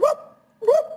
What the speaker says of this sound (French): Faudrait un son de chien kabyle